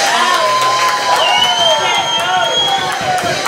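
A packed club crowd at a rock concert roars with cheers and whistling whoops over clapping, loud and close, as another band member is introduced.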